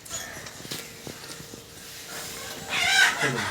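Hens in a home flock that has just been given medicine cluck and squawk in short irregular calls, close by, rising to a louder, harsher cackle near the end.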